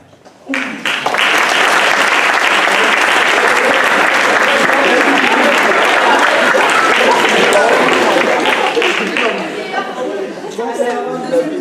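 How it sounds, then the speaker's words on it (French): A class audience at a student marketing project awards event in France breaks into loud, close applause with cheering chatter mixed in, holding strong for about nine seconds before tapering as talk resumes. "Donc on peut applaudir en troisième position"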